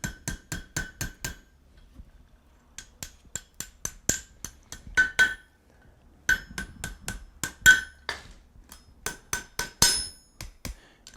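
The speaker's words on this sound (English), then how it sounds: "Start by making the ring over the horn of my anvil." Hot steel is hammered into a ring over the horn of an anvil in a blacksmith's forge, giving sharp, ringing metallic strikes in quick rhythmic bursts, with short pauses between runs of blows.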